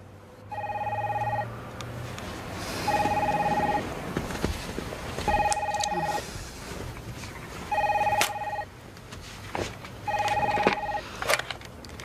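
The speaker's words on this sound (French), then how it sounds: "Et si vous répondiez au téléphone, hein?" A telephone rings in repeated double bursts, five rings spaced a couple of seconds apart, fairly clear over a low background hum.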